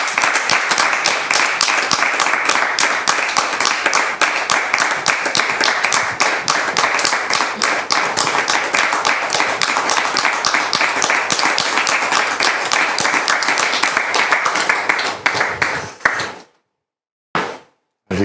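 An audience claps steadily and loudly for about sixteen seconds to welcome a pastor onto a French-language show, then the applause stops abruptly into near silence.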